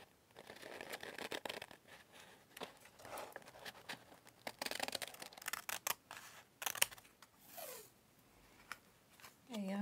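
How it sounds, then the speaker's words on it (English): Scissors snipping around an envelope template for a junk journal, with an old notebook nearby: a run of close, crisp cuts and paper rustles at an irregular rhythm, with a few louder snips and some handling noise. "So using the outer envelope as my template, I am just cutting round."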